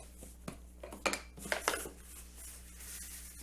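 Metal pans, pie plates and a casserole dish are handled in a kitchen, giving a handful of light clinks and clatters clustered in the middle, close but faint, with no talk.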